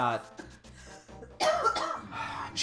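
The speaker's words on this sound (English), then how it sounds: "My wife that's coughing over there," A woman coughs a few times, harsh bursts set back from the microphone, with someone talking over and around them.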